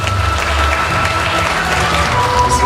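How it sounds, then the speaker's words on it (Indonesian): Training participants burst into loud, dense applause, many hands clapping together steadily and close for the whole stretch, with no voices over it. "Tepuk tangan untuk kita semua."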